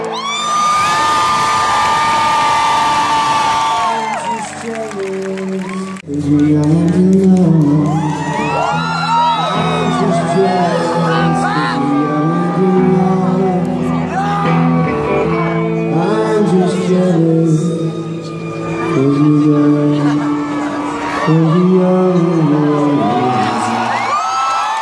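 A concert crowd of about 6,000 people chants along to a band's lyrics, a loud, sustained mass of voices singing together with whoops and cheers rising through it.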